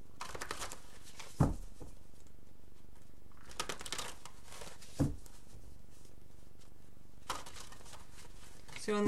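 Tarot or oracle cards are handled and drawn from a deck, with three distinct bursts of close, papery shuffling and riffling separated by quieter stretches of faint rustle.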